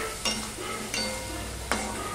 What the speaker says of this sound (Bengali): এবার আলু পেঁয়াজ ভালো করে মিশিয়ে নিয়ে আমি ভাজতে থাকবো।